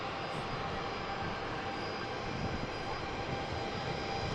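A Hainan Airlines jet taxiing out at Manchester Airport: a steady, broad engine roar and hiss holding at an even level throughout, with no talking.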